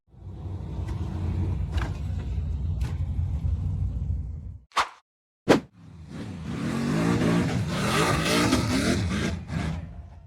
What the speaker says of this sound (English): The gray buggy tried to power over the rough rock face